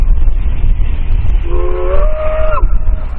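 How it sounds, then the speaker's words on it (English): The steam whistle of a Virginia and Truckee Railroad locomotive sounds one chime-like blast lasting about a second, over a loud, constant rumble of the running engine and train. "They were completely dissatisfied with the sound of their current whistle"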